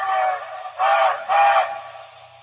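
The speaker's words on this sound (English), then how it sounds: "that's the 412-2 whistle" A recorded 412-2 train whistle sounds a loud, steady chord-like tone, rising into two stronger blasts in quick succession before easing back, with no talk over it.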